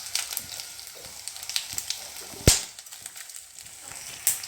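Spiced king fish masala frying in a pan, a steady low crackle and sizzle running throughout, with a sharper pop or spatter about halfway through and another near the end.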